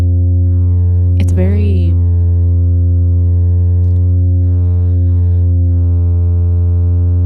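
A loud, steady synthesized tone set to low resonance drones continuously with a buzzy, staticky edge and a dense stack of harmonics. A brief sweeping chirp cuts in near the start.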